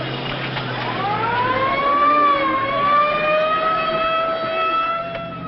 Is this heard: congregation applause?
no